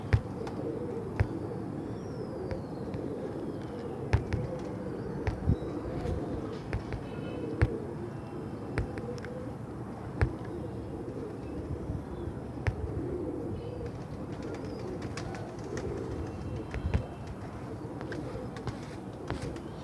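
Pigeons at a Sunday bird market in Multan coo in a steady low murmur that runs through the whole stretch, with scattered faint chirps and handling noises and a soft background hum.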